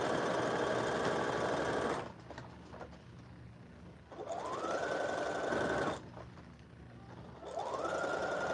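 A sewing machine hems costume sleeves for a New Year's Eve parade, running in two steady bursts of rapid stitching separated by quieter pauses, close and fairly loud.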